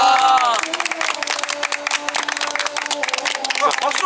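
A street crowd in Hongdae applauds and cheers a magic trick, a bright burst of close clapping and excited shouting that stays busy and uneven throughout, with voices talking over it.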